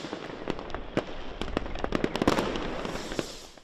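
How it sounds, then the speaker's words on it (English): New Year fireworks over Berlin at night, a rapid volley of sharp cracks and pops from a distant display, building to a dense crackling peak midway before thinning out. "the Berlin night sky was illuminated by a spectacular firework display"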